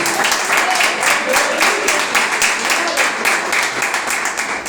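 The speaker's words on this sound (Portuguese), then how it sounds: "Palmas de vitória." Congregation clapping in victory at a church service, steady dense applause throughout at close range, with a faint voice underneath.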